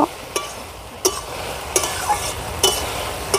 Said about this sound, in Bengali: কচু শাকগুলো ভালো করে আমি নেড়ে চেড়ে দেব।